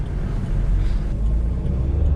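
Remapped Volkswagen Polo GT TDI diesel with 320 Nm of torque accelerating on an open road, a steady low engine and road rumble heard from inside the car.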